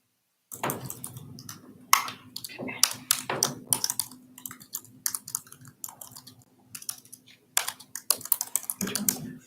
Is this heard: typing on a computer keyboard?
yes